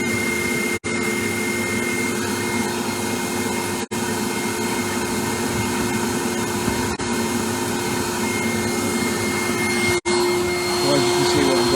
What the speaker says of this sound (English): the bees are now buzzing round Henry the vacuum